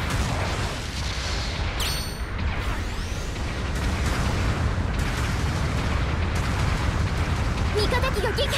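In the Gundam Battle Operation 2 video game, incoming artillery pounds the area with continuous heavy rumbling blasts and booms layered under dense battle noise, loud and unbroken throughout.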